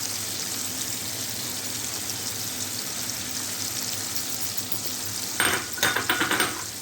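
Onions and chicken frying in a pan for a cheesy chicken pasta, a steady dense sizzle throughout, broken near the end by a few sharp stirring knocks and clatters; close, no talk.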